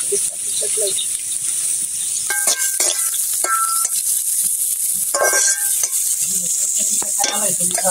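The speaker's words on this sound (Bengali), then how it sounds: "ইসা মাছটা দিয়ে দিলাম, হলুদ মরিচ দিয়ে দিলাম" Shrimp fries in a pan with turmeric and chili for a pumpkin-shoot dish, giving a loud, steady sizzle broken by stirring scrapes and metallic clinks, with a voice speaking at times.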